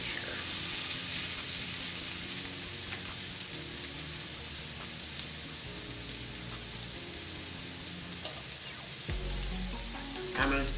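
Breakfast potatoes fry in a pan with a steady, dense sizzle and crackle throughout, a brief shuffle near the end, without talk.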